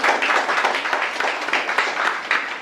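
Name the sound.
audience applause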